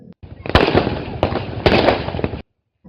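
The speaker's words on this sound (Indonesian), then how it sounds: "dentuman kembang api diselingi petasan terdengar silih berganti" Fireworks and firecrackers crack and boom close by in quick succession, sharp pops over a dense crackling roar that stops abruptly.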